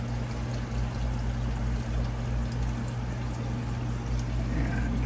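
Water carrying small fish is poured from a measuring cup into a 75-gallon aquarium, a soft steady trickle over a constant hum of tank equipment, with no talk.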